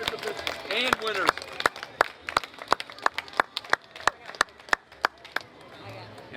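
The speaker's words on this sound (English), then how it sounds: "How about a round of applause for all the small dog participants and winners?" A small audience at an outdoor dog parade claps for the small-dog entrants, sparse individual claps popping out at an uneven pace, with a voice speaking briefly at the start.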